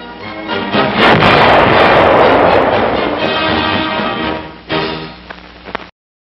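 A mine explodes in a 1945 newsreel about Czechs fighting for freedom. A loud, roaring blast rumbles and crackles for several seconds, and a second sharp burst comes before the sound cuts off.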